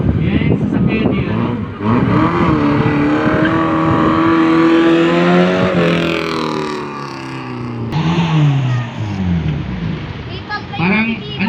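An owner-type jeep engine from the Philippines, Pangasinan, revs loudly and close by, rising and falling over several seconds, while people talk over the sound.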